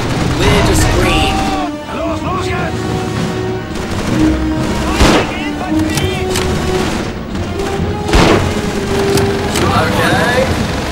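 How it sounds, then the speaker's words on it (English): Gunfire in the World War II shooter Call of Duty 3, a slower-firing weapon popping in spaced bursts amid a dense battlefield din of distant shots and explosions, with a player talking over it. "It's a much slower firing gun than I previously had."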